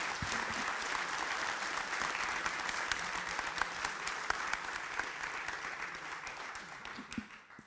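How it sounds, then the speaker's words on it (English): Audience at the NLNOG day 2019 quiz giving Andre warm applause, a steady sustained round of clapping that fades near the end. "A warm applause for Andre."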